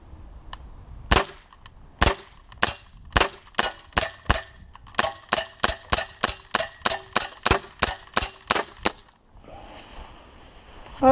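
A Beretta 92 Elite 2 Umarex air pistol fires pellets in a rapid string of about twenty sharp, snappy shots, at first spaced and then fast and regular, with quiet gaps and a short rustle at the end.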